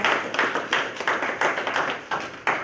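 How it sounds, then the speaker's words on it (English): An audience gives a round of applause at a community gathering, with claps coming in quick rhythmic bursts, moderately loud and fairly close, with no voices over them. "Let's give Brother Steve a round of applause."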